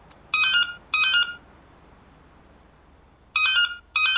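Two pairs of bright electronic ring bursts, a short pause between each pair, over a low synthetic hum; a Nokia-style phone chiming loudly and clearly in the horror game Anthology of Fear.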